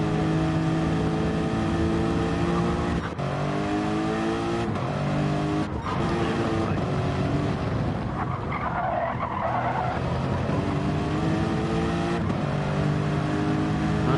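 A race car engine in a racing video game drones steadily with shifting pitch as it revs and changes gear, loud and close, with tire skidding hiss layered on top.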